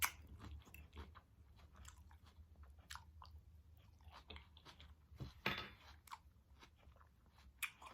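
Close, crunchy chewing and biting of fish nuggets dipped in pineapple ginger barbecue sauce, served with sweet plantains and spicy slaw, with irregular soft crunches and mouth sounds heard alone without talk.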